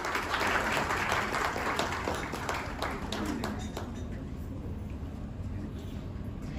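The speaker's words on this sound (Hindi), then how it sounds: "एक बार जोरदार तालियां हो जाएं।" Audience applause at the Aligarh Wings Award 2021 ceremony in a hotel hall, a burst of clapping that thins and fades into room noise and faint voices.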